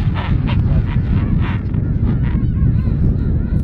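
King penguins calling at a Falklands colony, loud close honking and trumpeting cries overlapping in a dense chorus over wind and crowd noise.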